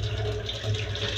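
Water runs steadily from a tap or drip in a kitchen, a continuous close rushing flow with no voices over it.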